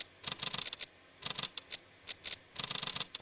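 Computer keyboard keys tapped in quick clattering bursts, several rapid clicks per group with short pauses between, close and crisp with no voice.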